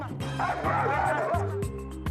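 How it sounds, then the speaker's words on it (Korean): A dog barks and yaps several times in quick succession, mixed with voices and other busy background sound, as it reacts to people dressed in factory work clothes, caps and masks. "그래도 얘가 짖나 안 짖나"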